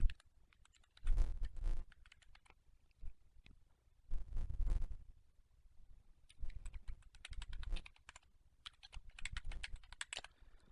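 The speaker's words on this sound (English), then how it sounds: "And I'll go ahead and also type in a website." Someone types on a computer keyboard in quick bursts of close, crisp key clicks separated by short pauses, with no talking.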